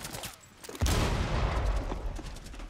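A grenade blast bursts in Rainbow Six Siege, a heavy boom that drops in suddenly and then carries into sustained rattling gunfire and rumbling, loud and close.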